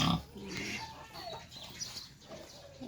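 A pet pig in heat on a small farm grunts and snorts at close range, with chicken clucking mixed in among the rough, irregular animal noises.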